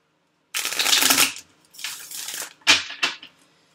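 Tarot cards being shuffled during a reading, three distinct riffling bursts separated by short pauses, close and crisp against silence.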